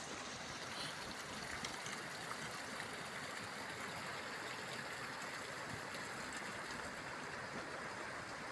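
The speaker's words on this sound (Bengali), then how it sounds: "এই একটা নালা গেছে" A small mountain stream runs past flowering rhododendrons on a high Himalayan trek, giving a steady, even rush and trickle of water that is constant and fairly soft, with no voices.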